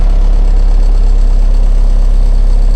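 An MTZ tractor engine idles steadily in deep winter snow and frost, a loud, continuous low rumble with an even mechanical throb and no pauses.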